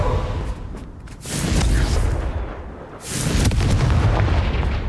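Confringo fire-blast spell in the video game Hogwarts Legacy: two loud, rumbling booming bursts, each lasting over a second with heavy low-end roar, separated by a brief dip.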